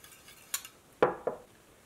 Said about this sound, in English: I have 2 eggs here that I have pre-whisked, but I'm going to whisk it again